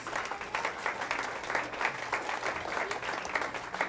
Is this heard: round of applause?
yes